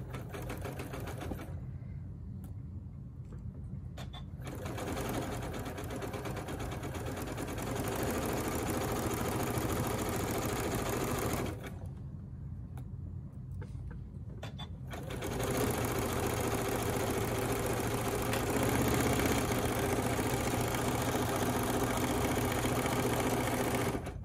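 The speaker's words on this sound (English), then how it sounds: "I'm at the sewing machine and I'm going to sew on the rickrack, and I am just going to use a zigzag stitch." A sewing machine runs in steady bursts while stitching rickrack down with a zigzag stitch, its close, even mechanical whir stopping twice for brief pauses before starting up again.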